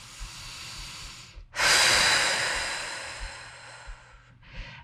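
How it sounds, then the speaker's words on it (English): One deep breath during a legs and core workout, a long airy exhale rushing out loudly and fading slowly, with a short breath at the end. "Take a deep breath in and out."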